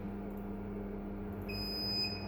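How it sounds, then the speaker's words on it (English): A steady electronic DVR motion-detection buzzer tone sounds over a constant low hum, with a higher-pitched beep tone joining partway through. "you can hear the buzzer going off"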